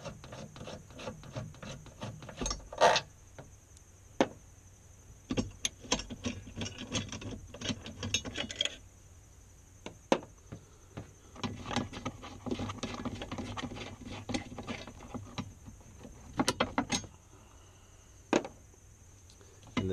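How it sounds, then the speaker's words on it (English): Car battery terminal bolts on a 2014-or-later Chevrolet Silverado are turned loose by hand, giving soft irregular rubbing, scraping and small metallic clicks in bursts with quiet gaps, close but faint, with no speech. "all I have to do is just undo them by hand and they'll come on out"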